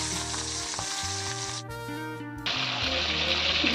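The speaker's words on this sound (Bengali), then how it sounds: "এখন আমি চিংড়ি মাছটা ভেজে নেব।" Shrimp fry in hot mustard oil in a kadai, a loud close sizzle that briefly drops away mid-clip and then surges back as frying resumes, with stirring clatter underneath.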